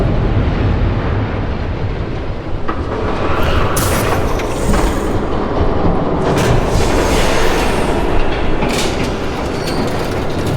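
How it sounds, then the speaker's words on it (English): Train approaching in the video game Batman The Telltale Series, a loud, close rumble of wheels and carriages with rattling clatter and sharp metallic squeals building throughout, with no talking. "There's a train coming"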